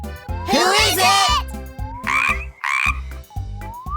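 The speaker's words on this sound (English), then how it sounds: "Kids, do you know which animal goes croak?" Cartoon frog croaks several times in a row, loud and close, with bouncy children's farm-animal music playing underneath.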